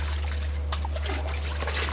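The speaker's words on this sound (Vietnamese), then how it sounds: "tiếng sóng nước vỗ vào thuyền" Small waves lap and trickle against a boat at sea off Quảng Ninh, Vietnam, as soft, close splashes over a steady low hum.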